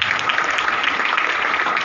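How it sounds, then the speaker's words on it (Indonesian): A church congregation applauding during a service, a continuous bright hiss of many hands clapping together at a steady, fairly loud level, with no voices over it. "Kasih tepuk tangan untuk Tuhan Yesus."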